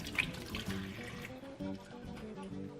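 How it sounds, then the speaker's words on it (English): Hands are washed under a running kitchen tap while cooking tomato soup and grilled cheese. A steady, moderate splash of flowing water continues throughout, with small shifts as the hands move in the stream. "So I'm going to wash my hands"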